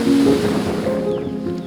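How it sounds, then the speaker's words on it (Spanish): The Arroyo de los Casares stream in Cantabria runs beside a walking trail, giving a steady, loud rush of flowing water. "vamos sintiendo a nuestra izquierda el correr del agua del arroyo de los Casares"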